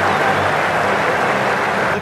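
Stadium crowd in the video game Ashes Cricket 2017 cheering and applauding after a wicket, a loud continuous wash of clapping and roar with no break.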